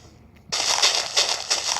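Blocks being broken in Minecraft: a sudden burst of crunchy, crackling noise after a short quiet start, continuing loud and close with a few rhythmic surges, no voice over it.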